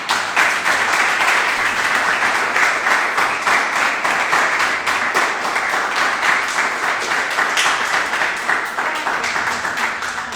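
A Spanish-speaking church congregation applauds during a sermon: steady, dense clapping from many hands that keeps up evenly for about ten seconds.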